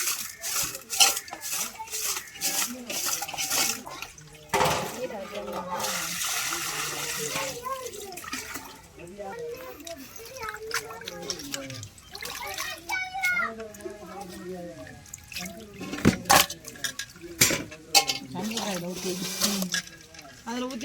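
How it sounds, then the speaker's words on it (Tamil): Fish, prawns and crab washed by hand in salted water, with splashing, sloshing and rubbing running through the whole stretch while people talk over it. "அளவுக்கோட உப்பு போட்டு கழுவுனா தான் நல்லா இருக்கும்"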